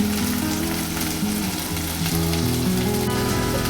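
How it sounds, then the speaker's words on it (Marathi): Misal masala is sautéed in a pan over high heat, giving a loud, continuous dense sizzle and crackle that holds steady throughout, close and unbroken, with low background rumble beneath. "तुम्ही बघू शकता आपला मसाला हा चांगला परतून झालेला आहे"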